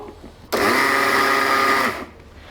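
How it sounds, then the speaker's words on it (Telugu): A mixer grinder runs on sesame seeds in one loud, close, steady whir lasting about a second and a half. It starts abruptly and then cuts off, with quiet room sound before and after. "కొన్ని ఈ నువ్వు పప్పు ఇందులో వేసుకుని మిక్సీ పడదాం"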